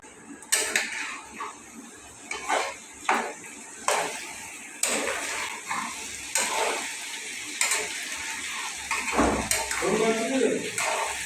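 Potatoes with spices, tomato and turmeric being stirred in a pan, with repeated scraping and clattering strokes in an irregular rhythm and a voice talking under part of it.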